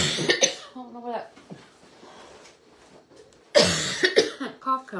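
Sharp bursts of coughing open and close the short span, loud and close, with a quieter stretch of voice between them, heard during a craft session of painting a thrifted cross.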